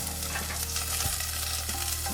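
Carrots frying in about two tablespoons of oil in a pan over medium heat for a cauliflower and sweet potato soup, a steady close sizzle with stirring scrapes and a low hum throughout, no talking.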